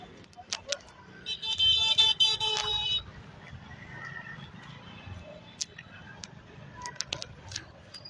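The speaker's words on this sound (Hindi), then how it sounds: "फिर भी भगाई जा रहा है और फिर हॉर्न मारी जा रहा है" A car horn blares for about two seconds amid traffic noise, followed by scattered clicks and a distant rumble.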